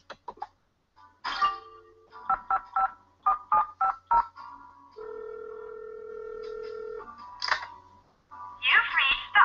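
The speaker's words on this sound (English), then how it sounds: "Maybe I should try out this phone number." Touch-tone keypad beeps from a video game phone as a number is dialed, a quick series of separate tones followed by a longer steady dial tone, then more beeps.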